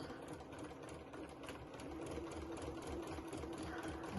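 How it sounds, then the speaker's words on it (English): A sewing machine runs slowly and steadily, stitching quilt sashing a quarter inch from the raw edges, producing a faint, even mechanical whir with rapid needle ticking that grows slightly louder partway through. "So I'm going to start sewing 1/4 inch from the raw edges."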